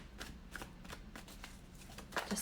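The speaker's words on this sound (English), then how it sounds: "so you don't think I'm shuffling in a weird way" Shuffling of double-sided tarot cards, a steady run of crisp riffling bursts in quick succession, close and quiet, without speech.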